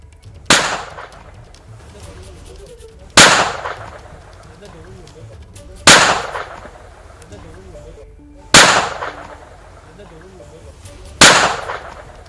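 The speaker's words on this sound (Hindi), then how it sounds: "गोलियां जब चल रही थी, उस वक्त की ये तस्वीर और आवाज भी हम आपको सुना रहे हैं।" Five loud, sharp gunshots from a police encounter ring out at roughly even intervals of about two and a half seconds, each followed by a brief echoing decay.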